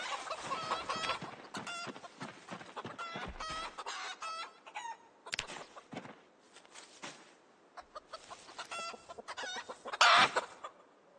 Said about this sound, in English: I do see a rooster in this field